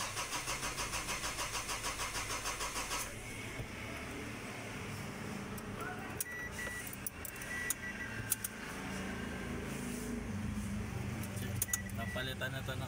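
A silver Ford Fiera's engine cranks with its replaced starter, a rapid rhythmic churning that catches into a running idle, with people talking nearby.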